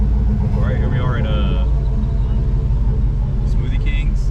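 Turbocharged LS-swapped Ford Ranger pickup idling in a drive-thru, a steady low rumble running throughout with voices talking over it.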